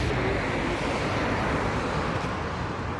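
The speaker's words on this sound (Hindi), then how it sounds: "ये रोड पे बहुत दिक्कत रहती है, गाड़ियों की आवाज़" Steady roadside traffic noise from passing vehicles forms a continuous broadband roar and rumble at moderate level, with no distinct single pass-by.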